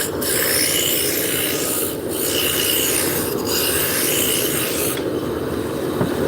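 Wood spindle being rough-turned on a lathe with a roughing gouge, a steady loud rasping hiss of the cutting edge on spinning stock, continuous with brief dips, no voices.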